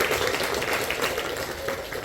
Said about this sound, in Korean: 우리 감사의 마음으로 박수 한번 칠까요?